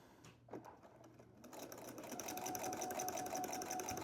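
A sewing machine stitches along a straight marked line on fabric for an organizer caddy, starting after a short quiet moment and then running as a steady, fast mechanical whirr with rapid needle ticking.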